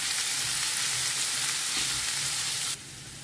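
Garlic, green chili and onion fry in a pan with a continuous close, hissing sizzle that cuts abruptly quieter near the end, with no talking.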